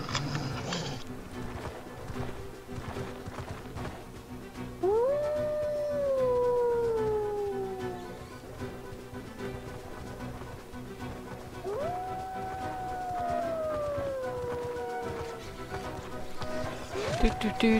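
A dog lets out two long, drawn-out howls near a graveyard, each rising then sliding down and fading, separated by a pause, over low background rumble and scattered noises.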